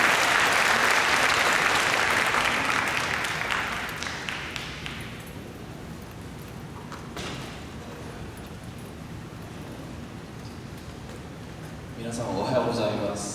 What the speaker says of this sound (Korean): 나오시도록 박수로 보내주십시오.